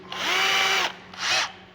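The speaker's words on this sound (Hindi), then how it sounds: "ड्रिल बीट से" An electric drill with a bit fitted bores into material while a handle is being installed, giving two loud, close whirring bursts, the first longer than the second, with no talking.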